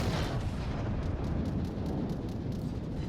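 Heavy naval battleship guns firing at the Yamato in a World of Warships battle, a dense rumbling roar of artillery blasts and booms that keeps going without letup.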